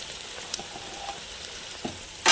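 Bottle gourd pieces fry with garlic-cumin paste for sambar, making a soft, even sizzle broken by scattered stirring clicks and a louder scrape at the end.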